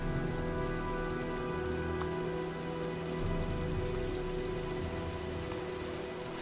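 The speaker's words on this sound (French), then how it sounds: "Je crois qu'un orage se prépare." Steady rain falls on surfaces as a storm approaches in the video game Heavy Rain, a constant, moderately loud patter with a low droning hum beneath and no voices.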